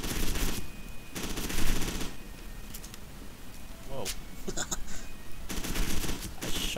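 Bursts of rapid automatic gunfire from F.E.A.R. 2: Project Origin crackle in several loud volleys separated by brief pauses, with someone talking over the shooting.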